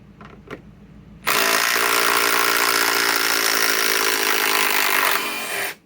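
A Metabo HPT WH18DC triple hammer impact driver drives a 5-inch lag: after a couple of short clicks, a loud continuous rattling hammer runs for about four seconds, then winds down and stops.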